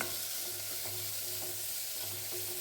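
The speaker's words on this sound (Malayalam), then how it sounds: "ഞാൻ ഒരു സവാള കുറച്ച് വലുതായി മുറിച്ചത് ചേർത്ത് കൊടുക്കുകയാണ് ഇനി കുറച്ച് ഉപ്പും കൂടി ചേർത്ത് ഇതൊന്ന് സോഫ്റ്റ് ആകുന്നവരെ നമുക്കൊന്ന് ഇളക്കി യോജിപ്പിക്കാം" Coarsely sliced onion with salt sautés in a pan for a jackfruit seed masala, giving a constant close sizzle with soft rhythmic stirring scrapes underneath.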